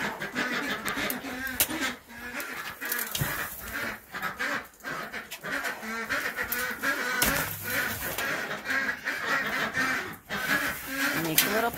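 Backyard chickens in a winter coop, with a rooster among them, clucking and calling in a steady busy chatter close by, broken by brief sharper calls, while a person talks over the flock.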